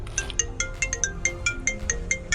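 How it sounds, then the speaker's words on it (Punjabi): A phone ringtone plays alone at moderate volume, a repeating electronic melody of short bright tones in a steady rhythm, with no talking over it. "ਲੈ ਆ ਫੇਰ ਫੋਨ ਆ ਗਿਆ"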